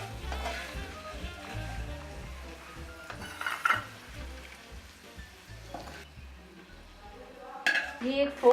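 Fried paneer being lifted from a pan onto a plate, with clinks and scrapes of utensils on cookware over faint sizzling, a few louder knocks near the end, and some talk alongside.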